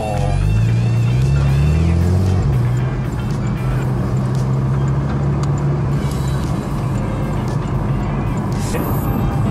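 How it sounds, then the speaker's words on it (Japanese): A Porsche 911 Carrera S Cabriolet accelerates hard from a standstill on a test drive. The engine note climbs steadily for a couple of seconds, then settles into a sustained, loud roar with road and wind noise. "こちら50キロまで飛ばせますので、踏んでみようと思います。"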